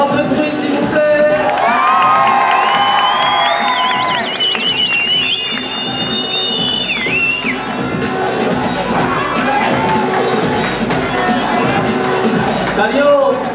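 A crowd at a demonstration event cheers, whoops and shouts loudly and continuously, with children's shouts and a high whistle-like whoop rising above the roar, close and sustained throughout.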